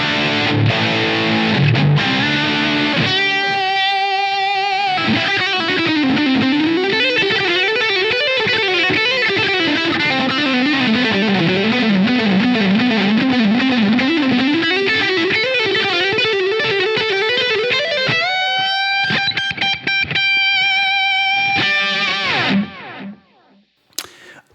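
An electric guitar runs through the distortion channel of a Line 6 Helix amp preset, with loud, saturated chords and a long sustained, wavering lead line before a final chord cuts off abruptly.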